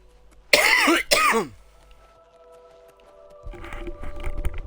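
Two harsh coughs burst out close by in quick succession, followed by quiet and then faint rustling movement.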